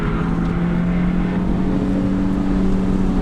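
Car accelerating on a track, a loud steady engine drone with a sustained low hum heard from inside the car, building slightly, with no talking.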